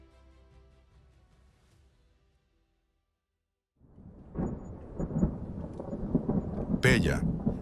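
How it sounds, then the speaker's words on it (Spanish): A thunderstorm with rolling thunder and steady rain, set in ancient Pella in Macedonia, begins after a quiet stretch; the storm swells to a loud, dense rumble with a sharp crack near the end. "una tormenta ilumina los cielos"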